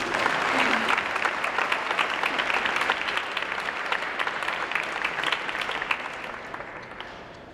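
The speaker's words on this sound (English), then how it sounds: "Applause for my fine committee." A scholarship gala audience applauds the event committee, a full sustained round of clapping that gradually tapers off over about seven seconds.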